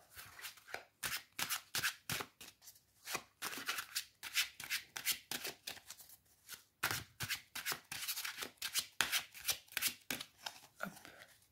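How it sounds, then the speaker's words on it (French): A tarot card deck shuffled by hand in quick repeated riffles, crisp papery flutters in steady bursts with short pauses between, close and fairly quiet. "Nous allons mélanger le jeu, sélectionner une carte."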